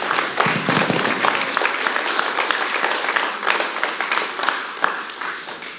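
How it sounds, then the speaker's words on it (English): Sustained applause from a seminar audience celebrating martial-arts belt promotions, dense steady clapping filling the room for several seconds with no talk over it. "give yourself a big round of applause"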